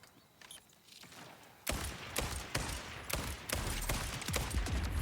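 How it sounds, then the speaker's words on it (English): Sniper rifle fire in a video game: sharp, loud shots in fast succession after a quiet lead-in, over a dense, noisy game soundscape with no voices. "This sniper rifle's really good."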